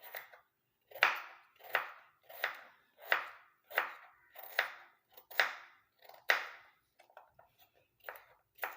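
A knife chops a small tuber into little pieces on a cutting board, about a dozen crisp, evenly spaced cuts close to the microphone, with near-silence between strikes.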